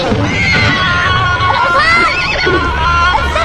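A horse neighs in loud, wavering whinnies close by, with people's voices mixed in around it.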